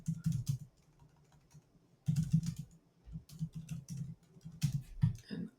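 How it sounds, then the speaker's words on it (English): Typing on a computer keyboard at a desk, close and fairly loud, coming in quick uneven bursts of clacking keystrokes separated by short pauses. "And my typing is way off today."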